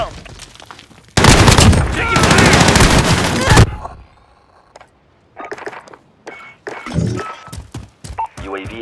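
Gunfire in Call of Duty Modern Warfare on the Aniyah Palace map in Hardpoint mode: a loud, sustained burst of automatic fire, followed by scattered shots, thuds and impacts, with voices speaking over parts of it.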